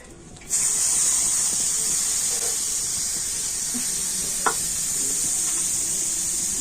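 Grated coconut tipped into a hot wok and stirred, giving a steady loud hiss and sizzle that begins abruptly and holds evenly, with a few faint scrapes of the spoon against the pan and no speech.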